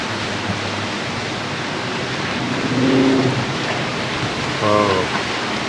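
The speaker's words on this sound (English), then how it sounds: "Here come the winds" Strong wind sweeps across the Mojave Desert as a thunderstorm approaches, a steady broadband roar that swells slightly midway, with a brief voice rising over it near the end.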